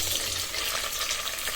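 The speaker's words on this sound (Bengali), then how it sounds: "আমি পাতিলে তেল দিয়ে দিছি। তেল গরম হয়ে আসছে। এবার কেটে রাখা পেঁয়াজগুলো দিয়ে দিচ্ছি।" Chopped onions fry in hot oil in a pot, a bright, continuous close-up sizzle with a slight crackle, no voices.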